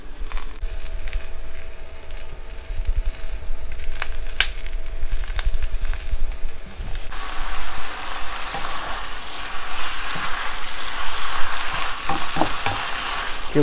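Hand-torn cabbage stir-fried in a hot wok with oyster sauce: loud, steady sizzling and crackling throughout, with scraping and tossing of the leaves that grows busier toward the end.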